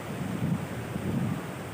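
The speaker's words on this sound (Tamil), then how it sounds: "பயங்கர ஃபாஸ்ட்டாக தண்ணி போகுது." Fast-flowing water of the Amaravathi river rushes steadily as a broad, even roar, with a low rumble that swells and eases, heard outdoors with no voices.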